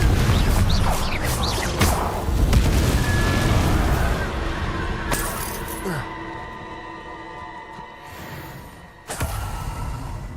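Confringo explosive spells blasting in Hogwarts Legacy, with several booming bursts and whooshes over busy, continuous game noise, a sharp blast near the end.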